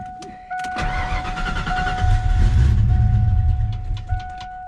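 A Coyote-swapped Foxbody Mustang engine cranks and catches, then settles into a loud, rumbling idle that runs on steadily, with a faint electronic chime in the background.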